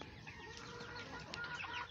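A turkey cock clucks in short, soft bursts over a steady background hum, with no one talking.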